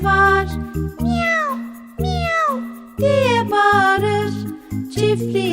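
Cats meow in a Turkish children's farm song about animals, several clear, bright drawn-out meows over a sung melody with a tinkling accompaniment.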